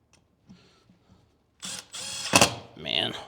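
Klein ratcheting screwdriver turning a Robertson square drive bit: faint scattered clicks at first, then loud, dense mechanical ratcheting bursts close to the mic through the second half.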